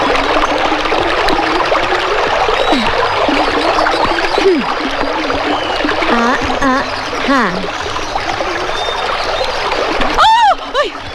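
People wade across an icy river, feet churning and splashing through the water in a steady rush of sloshing, close by, with a few voices talking over it.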